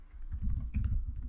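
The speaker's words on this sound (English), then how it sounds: "and then you type" Typing on a computer keyboard at a terminal, a brisk run of close, soft key clicks with no speech.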